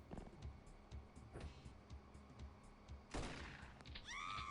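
Gunfire in the video game X-piratez comes as a few sharp shots spaced out over a few seconds, quiet overall with a low background hum and a ringing tone at the end.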